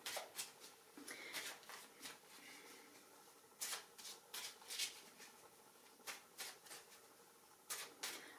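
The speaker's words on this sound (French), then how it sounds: "je bats les cartes" Deck of tarot cards being shuffled by hand, soft papery riffles and slaps in irregular bursts, close and quiet, with no talking.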